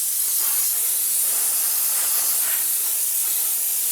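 Coating sprays in a continuous loud hiss onto the brake calipers of a BMW F10 M5, a steady aerosol burst lasting several seconds without pause.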